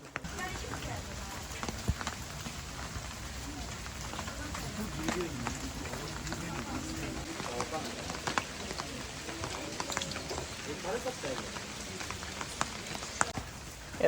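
Steady rain falls along the torii-lined path at Fushimi Inari Shrine in Kyoto, a dense, even hiss of drops with faint scattered patters and footsteps under a continuous wash.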